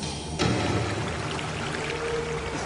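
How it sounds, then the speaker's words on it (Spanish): A mountain river flows past in a steady, full rush of water that swells slightly after a moment, heard close by with no voices. "En este ejercicio tenemos que cruzar un obstáculo, y ese obstáculo es el río"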